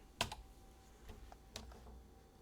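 A few quick computer keyboard keystrokes, a sharp cluster of clicks followed by scattered lighter taps, close and quiet in a still room.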